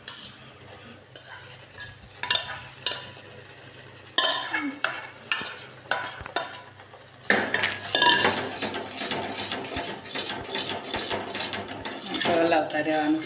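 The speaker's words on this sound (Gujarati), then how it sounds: "હલાવતા રહેવાનું થોડી વાર માટે" A spoon stirs moti churna ladoo mixture in a metal pan in repeated rhythmic scraping strokes, close and clear, with brief pauses, then a denser, continuous scraping stir with light clinks toward the end.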